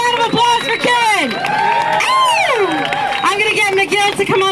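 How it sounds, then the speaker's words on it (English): A crowd at an anti-lockdown protest in Toronto claps and cheers, with loud whoops and shouts rising and falling over a dense, steady roar of hands close to the mic. "One big round of applause for Kieran."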